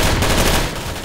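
Suppressing gunfire in the video game Insurgency, a loud, dense burst of rapid shots filling the whole moment with no pause and no voices.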